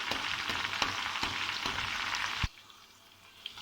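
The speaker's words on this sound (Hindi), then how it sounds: "प्याज मेरे बहुत अच्छे से फ्राई हो रहे हैं, लेकिन मैं अभी गोल्डन होने तक इन्हें ऐसे ही फ्राई करूँगा" Onions fry in hot oil for beef haleem, giving a close, steady sizzle with occasional stirring clicks that cuts off abruptly, leaving quiet.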